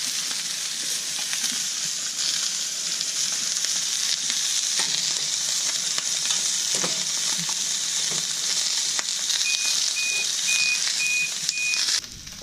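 Salmon sizzles steadily in an oiled pan, a dense, even hiss holding at one level for the whole stretch, with a few faint clicks near the end and no voices.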